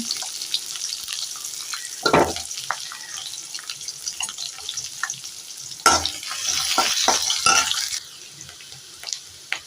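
Mustard seeds, aromatic spices and onions fry in hot oil, a steady sizzle broken by clattering stirs and sharp pops, with louder bursts around the middle as the pan is worked; no one speaks.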